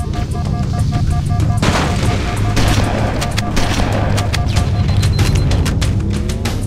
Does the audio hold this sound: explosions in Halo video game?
yes